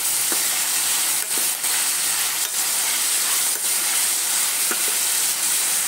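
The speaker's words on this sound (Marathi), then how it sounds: "अर्धा टीस्पून लसणाचं पेस्ट, तेही परतून घेऊया आपण." Half a teaspoon of garlic paste sautés in hot oil in a pan for a vegetable dish, giving a loud, continuous, close sizzle with a few faint stirring ticks, and no voices.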